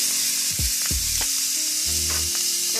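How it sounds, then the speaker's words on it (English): Onion sauteing in hot olive oil in a skillet: a loud, constant close-up sizzle and hiss with a few soft scrapes and knocks of a utensil stirring. "we're going to saute that for 4 minutes"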